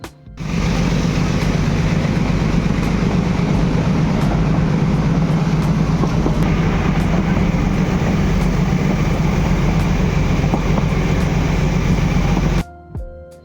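Nilgiri toy train rolling from Coonoor to Ooty, a steady loud rumble and clatter of wheels on track that holds unbroken for about twelve seconds before cutting off, with no talk.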